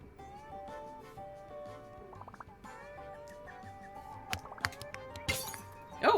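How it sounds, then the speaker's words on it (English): Bowl smashing in the Welcome to Elk video game: a quiet, brief crash with crackling shards near the end, over a soft steady musical backdrop. "Oh, I smashed a bowl."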